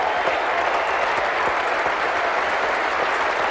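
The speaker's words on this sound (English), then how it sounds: "that applause from the best crowd of the match so far on this 3rd day" A cricket crowd at a 1977 India versus Australia Test applauds a batsman reaching fifty, a dense, steady wash of distant clapping filling the ground without pause.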